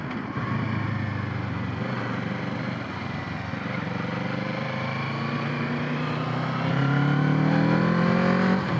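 A Kawasaki Z650 motorcycle engine hums steadily up close, its pitch climbing as it accelerates, rising louder toward the end.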